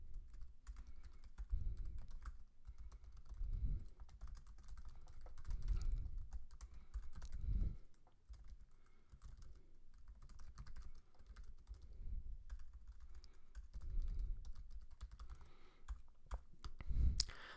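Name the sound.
typing code on a computer keyboard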